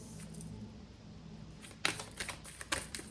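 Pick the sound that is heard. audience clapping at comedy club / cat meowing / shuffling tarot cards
shuffling tarot cards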